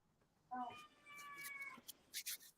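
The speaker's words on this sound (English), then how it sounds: "Hey, Mill City, you got a cat?" A cat gives a single drawn-out meow with a rising start, clear and fairly near, followed by brief rustling noises.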